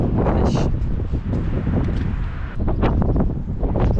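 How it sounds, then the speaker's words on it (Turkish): Strong wind in Armenia buffets the microphone in a steady, loud roar with gusty surges, rumbling low throughout with no voices. "Bugün şansımıza çok rüzgarlı. Rüzgar beni bile uçurur."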